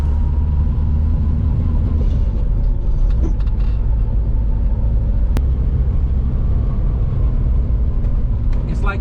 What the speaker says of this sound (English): let's go ahead and drive this thing on the street